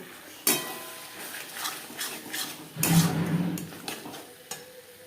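Garlic is stirred with spices in a pan, with a spoon clanking sharply against the metal a few times, short scraping strokes between the clanks, and a faint sizzle running underneath.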